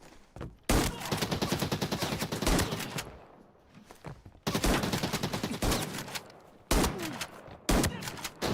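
Rapid automatic gunfire in a shooter video game, several loud, close bursts of fast repeated shots broken by short pauses and quieter gaps.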